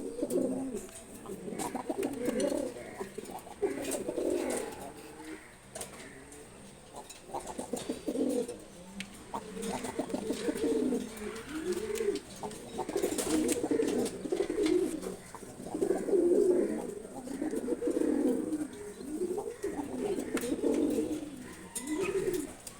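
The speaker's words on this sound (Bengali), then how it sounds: "খুবই সুন্দর কবুতর।" A pair of khaki pigeons coo close by in repeated soft rolling phrases that rise and fall in a steady rhythm throughout.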